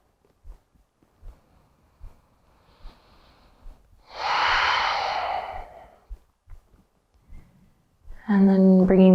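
Deep yoga breathing into the belly: one long, loud, airy exhale stands out among soft, faint breaths and small rustles, and a voice begins speaking at the end.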